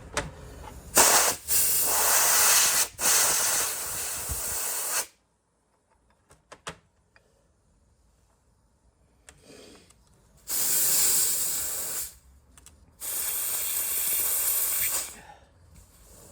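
Compressed air hisses from an air compressor line during work on a Kawasaki KX dirt bike's rear wheel and brakes. There are several loud, sustained bursts with a quiet gap of faint clicks and handling noises between them.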